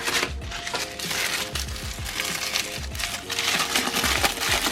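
Wrapping paper around a SmallRig magic arm and crab clamp kit being handled, giving repeated close crinkling and crumpling rustles in quick irregular bursts.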